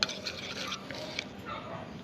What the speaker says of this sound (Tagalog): So haluin natin ito na mabuti.